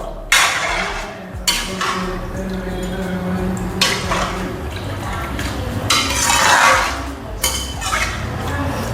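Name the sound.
stirring semiya payasam in a pan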